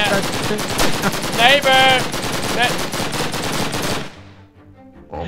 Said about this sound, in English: Neighbor, you need to put that gun away.